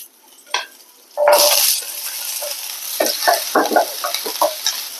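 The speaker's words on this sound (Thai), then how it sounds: "เราก็มาผัดผักเครื่องเคียงกันนะคะีนป้าจะใช้เป็นเนยค่ะ" Side vegetables stir-fried in butter in a pan, with a sharp burst of sizzling that settles into a steady fry, broken by several clattering stirs and scrapes close by.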